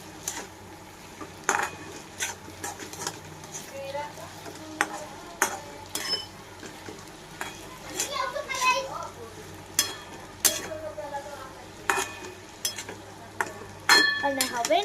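Sabudana khichdi is stirred in a pan after turmeric goes in, with scattered spoon and pan clinks and a soft sizzle underneath, close and moderately quiet, and children faintly audible in the background.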